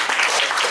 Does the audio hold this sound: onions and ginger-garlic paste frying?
no